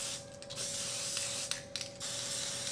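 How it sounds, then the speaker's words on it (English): Glass frost spray paint hisses from an aerosol can onto glass in several short bursts separated by brief pauses, close and fairly quiet. "I'm going to just spray some more"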